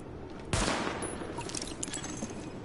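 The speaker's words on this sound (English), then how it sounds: "Weapon test initialized. Open fire at the highlighted targets." Gunfire at highlighted practice targets in the video game Tom Clancy's The Division, a sharp, loud shot followed by a rattle of rapid fire and echoing reports fading over a couple of seconds.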